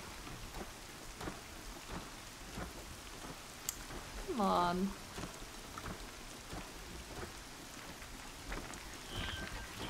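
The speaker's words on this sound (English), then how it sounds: "Been waiting for the storm to hit." Steady, dense rain hisses throughout a rainstorm with thunder in the video game Horizon Zero Dawn, with a low rumble beneath and a brief pitched chirp midway; a voice speaks briefly.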